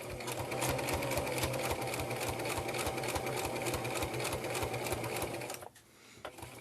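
A sewing machine stitches through thick layers of fabric on a small handmade wallet, running in a fast, even mechanical chatter for several seconds before stopping abruptly.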